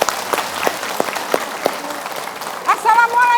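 Audience applause welcoming Indonesian comedian Rini S. Bonbon on stage at a religious talk show, claps building under some crowd noise and voices, with a few sharp louder claps early on.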